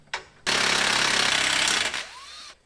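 A power tool whirs in one loud, steady burst, tightening a radius rod bolt on a Polaris RZR XP1000, preceded by a brief short buzz and trailing off as it winds down.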